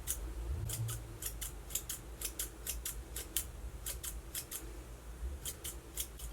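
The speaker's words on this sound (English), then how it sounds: "I know I'm using the wrong scissors" Scissors snipping through hair while someone trims their own bangs, a steady series of crisp close metallic snips in small clusters over a low background hum, with no talking.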